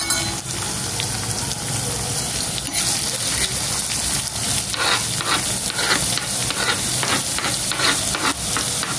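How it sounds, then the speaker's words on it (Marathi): Four large onions fry with curry leaves in a pan, giving a loud, continuous sizzle while a spoon scrapes and stirs at irregular intervals. The sound is close and dense throughout. "कांदा नीट आपण मस्तपैकी परतवून भाजून घेऊया"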